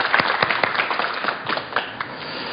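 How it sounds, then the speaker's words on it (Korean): A crowd applauds a city mayor being welcomed to center stage at a televised talk show, dense clapping with distinct individual claps, fairly close and loud, tapering slightly toward the end. "박수로 맞이해 주십시오"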